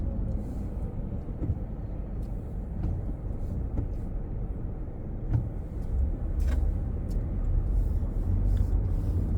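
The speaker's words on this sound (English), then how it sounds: "Traffic's kind of heavy." Heavy road traffic heard from inside a waiting vehicle, a continuous low rumble of engines that swells slightly toward the end, with faint clicks and knocks scattered over it and no talk.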